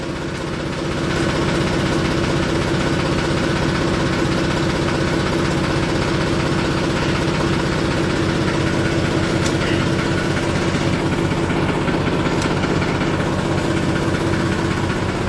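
A diesel tractor engine idles steadily and loudly up close, a constant low rumbling throb with a vibrating chug that never changes pace.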